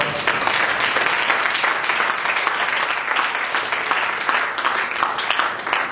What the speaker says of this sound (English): Give a big clap to the Lord.